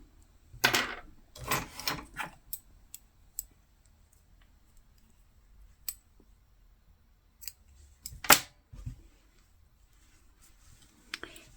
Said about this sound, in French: je fais une maille en l'air et je coupe le fil